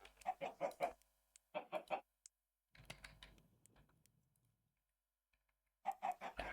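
Minecraft chickens cluck in short clipped bursts of three or four notes, separated by silences and a faint rustle, fairly close and clear.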